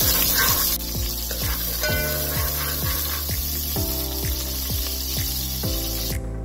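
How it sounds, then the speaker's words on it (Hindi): Finely chopped medium onion sizzling in oil in a pot, a steady loud fry with a rhythmic scraping or stirring clatter repeating throughout, no talking. "उसमें शामिल कर रही हूँ मैं बारीक कटे हुए 1 मीडियम साइज़ का प्याज, और इसको हम गोल्डन ब्राउन कर लेंगे।"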